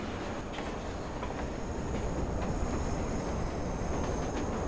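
Metro train in the video game Watch Dogs, a loud, continuous rushing roar of a moving train with rattling wheels and a faint high whine throughout.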